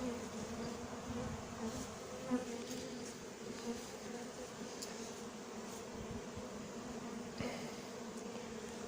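Honeybees swarming around a hive during the hiving of a colony, a steady dense close buzz of many insects with occasional louder individual bees passing near.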